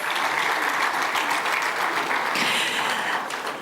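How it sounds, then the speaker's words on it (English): An audience at the ECOWAS Investment Forum applauds the panelists, with dense, loud, continuous clapping that holds steady through the whole short stretch. "One more time, please applaud our wonderful panelists."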